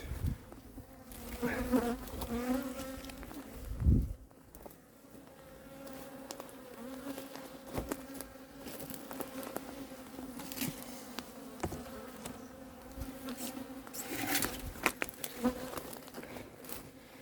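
Honeybees buzz continuously around a hive being moved, a dense, close droning hum with occasional louder passes.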